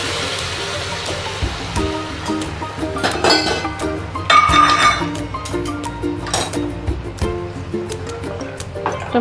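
Hot cooking water from boiled carrots and peas is poured into a pan of vermicelli for sevai upma, making a continuous rushing splash with a few light clinks of metal cookware mixed in.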